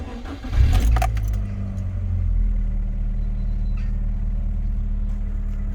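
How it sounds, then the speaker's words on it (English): Rover 45 with a K-Series petrol engine idling smoothly and quietly, a steady low hum throughout, with a brief jangle of keys and a small thump near the start. "That is most definitely one of the nicest sounding K-Series engines I have ever heard"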